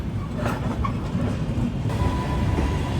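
A MEMU passenger train pulls away toward Varanasi Junction, a steady rumbling roll of wheels on track with faint clicks and a brief distant tone, heard nearby and fairly loud without any voices.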